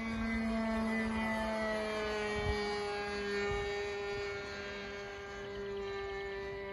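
An Old School Model Works Skyranger .40 RC model airplane flies overhead on approach, its small glow engine giving a steady, loud buzzing drone with a slowly shifting pitch.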